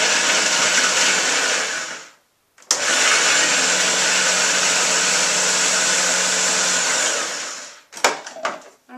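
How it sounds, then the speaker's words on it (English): A food processor whirs loudly, chopping walnuts with butternut squash in two bursts: a long steady motor roar, a brief stop, then a longer run ending with clattering as the machine halts. "we're just going to chop up now our walnuts."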